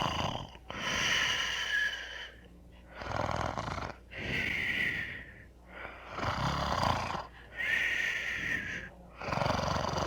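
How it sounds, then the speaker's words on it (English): A man snores, played back from an old audiotape Christmas greeting recorded around 1961–62. There are five loud rasping snores in a slow regular rhythm, each followed by a quiet pause, and nothing else is heard. "And now my father's snoring."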